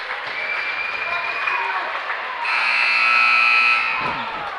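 A loud electronic buzzer sounds for about a second and a half over a noisy, cheering crowd in a gym during a high school boys' basketball game.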